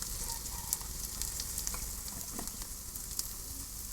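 Dry chili paste sizzling in hot oil with fried onion and garlic paste, a steady broadband crackle with small sharp pops and light stirring scrapes, close and continuous with no talk.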